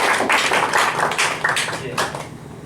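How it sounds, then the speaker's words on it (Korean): A church congregation at a Sunday worship service claps in encouragement, a dense patter of hands in a few swelling bursts that gradually thin out and fade. "격려하는 의미로 박수 한번 크게 하겠습니다."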